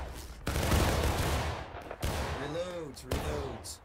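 Musket volleys in the American Civil War game War of Rights: loud, dense bursts of massed gunfire, broken by brief lulls, with a voice faintly audible between the shots.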